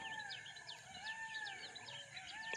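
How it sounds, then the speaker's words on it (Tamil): A peacock calls near a village tank in Vanni, Sri Lanka, giving a series of short, repeated harsh cries at a distance. The cries are faint and sound alone, with no talk. "மயில் கத்துது."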